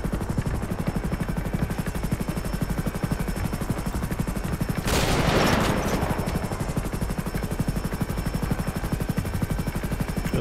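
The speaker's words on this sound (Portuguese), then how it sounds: "agora vão ser tiros livres. Eu vou passando, os senhores vão disparando o alvo que vem" A single sniper rifle shot fired at targets in the video game GTA 5 cracks out sharply with a short echoing tail, set against a steady, rhythmic rotor-like drone that runs throughout.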